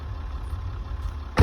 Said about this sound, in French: Vous pouvez l'entendre au moteur, hein. Ça tourne nickel, aucun problème.